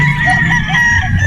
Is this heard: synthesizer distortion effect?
no